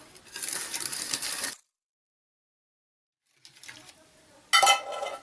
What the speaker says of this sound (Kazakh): кремге араластыра отыра құямыз